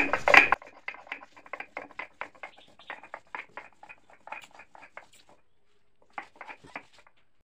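Spice paste with raw cumin ground by hand, heard as a steady run of short, rhythmic scraping strokes, a brief pause, then more strokes.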